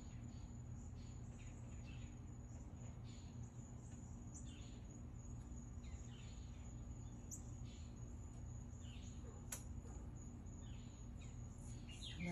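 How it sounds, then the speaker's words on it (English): Faint morning bird chirps and insect-like trills scattered over a steady low hum, soft and distant, with a few brief brighter calls standing out. "I love hearing the birds chirping early in the morning when I'm drinking my coffee."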